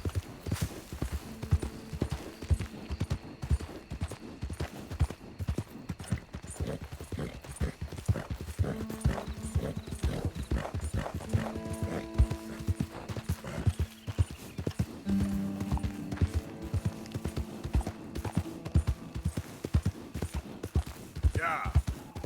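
A horse in the Red Dead Redemption 2 video game gallops with steady, loud rhythmic clip-clop hoofbeats, punctuated by neighs and whinnies, while a person talks over the action.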